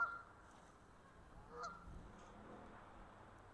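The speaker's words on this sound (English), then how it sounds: "Hearing the duck, the goose over there?" Faint goose honks from a waterside spot, a couple of short nasal calls rising above quiet background hiss, one clearer honk midway and another softer one after it.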